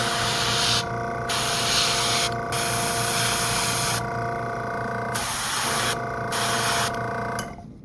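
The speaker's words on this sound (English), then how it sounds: "you don't want to pull all the way because that'll just spray a ton of paint out" Steady airbrush hiss spraying primer onto Warhammer miniatures in repeated bursts, each lasting a second or more, with short gaps where the flow cuts off, close and loud.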